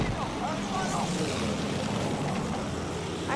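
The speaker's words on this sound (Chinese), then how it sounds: "Ragazzi, aereo nemico." WWI-era aircraft engine droning in the game Battlefield 1, a faint, steady propeller hum heard from inside the cockpit, with a player talking over it.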